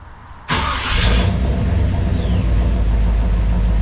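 A 1956 Chevrolet Bel Air engine with a freshly tuned carburetor catches and settles into a loud, steady idle, a strong continuous rumble close by with no talk over it.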